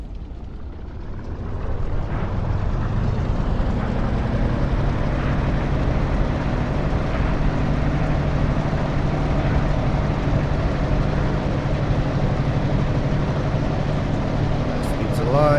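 A Spitfire LF IX piston engine in the DCS flight simulator runs up to a steady, loud, full roar after a quieter start, with a deep rumbling drone that holds throughout.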